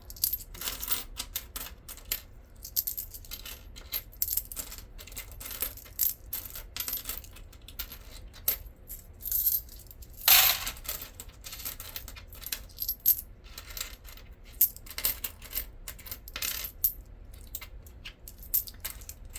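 Coins clinking and rattling continuously as they are handled and sorted, with small metallic taps and scrapes close by and no talking.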